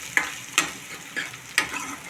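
Onions fry in hot oil until golden, a steady sizzle punctuated by four sharp scrapes of a spatula against the pan, close and clear with no talk.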